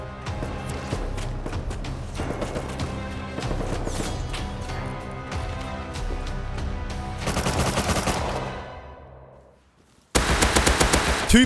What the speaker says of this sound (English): I wanted to go investigate some M249 shots